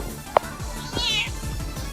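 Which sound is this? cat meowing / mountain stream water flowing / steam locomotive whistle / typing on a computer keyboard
cat meowing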